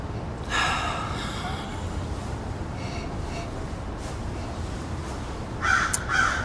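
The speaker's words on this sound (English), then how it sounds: "That is a very loud bird." A very loud crow caws from outdoors on a porch, two clusters of harsh calls, one early and another near the end, over a steady broadband background hiss.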